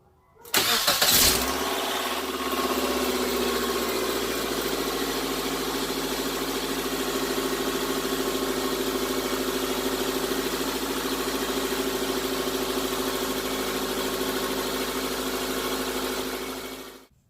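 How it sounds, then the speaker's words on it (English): A Nissan car engine with a newly replaced starter cranks briefly, catches, then settles into a steady, even idle that runs close and continuous for the rest of the clip, with no talking. "Now let's go ahead and turn on the vehicle."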